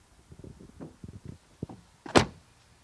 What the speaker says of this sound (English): the door closing sound. Let's listen to that.